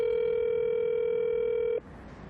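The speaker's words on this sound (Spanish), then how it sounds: "Es el teléfono personal de la ministra Karen Abudinem" Steady telephone dial tone on a call placed to a government minister's personal phone, holding loud and unbroken alone for nearly two seconds before cutting off abruptly.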